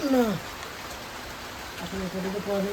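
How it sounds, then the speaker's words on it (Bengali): Rain falling outside a house, a steady, even hiss throughout, with brief murmuring voices at the start and again near the end. "বাড়ির থেকে বেরিয়েছি আর সঙ্গে সঙ্গে বৃষ্টি নেমে গেছে"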